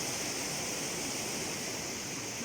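Small mountain stream flowing beside a path: a steady, even rush of water, moderately faint and unbroken, with no other sounds.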